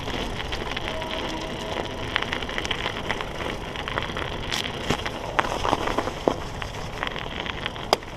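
Mountain bike tires on a Cannondale F4000sl crunch over sheet ice during a winter night ride, a steady close crackling grind broken by sharper snaps and pops.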